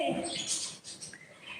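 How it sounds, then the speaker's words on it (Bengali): Birds kept at a house beside a road chirp and tweet in quick, fairly close bursts, a short lively stretch of high calls with no clear talking. "তাদের বাড়ির পাখিগুলো এত ডাকছে যে আমার থেকে তোমরা ওদের কথাই বেশি শুনতে পাবে"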